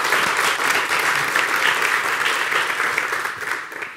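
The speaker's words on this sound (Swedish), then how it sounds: "Kan vi inte bara ge Per en applåd innan vi tar frågan?" Warm, continuous applause from a conference audience after a talk on digitalisation in welfare, loud and even throughout before tapering off at the end.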